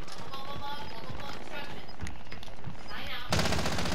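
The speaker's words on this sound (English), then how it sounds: "I hear somebody getting shot." Rapid machine-gun bursts and scattered shots crackle through a Call of Duty: Modern Warfare match, layered under players' voices, with a louder, denser volley near the end.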